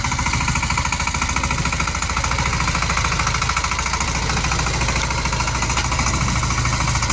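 A 14-horsepower engine from 2023, fitted with a new crankshaft bush, oil pump, nozzle plunger and camshaft, runs loud and close with a rapid, even, hammering thump that holds steady throughout.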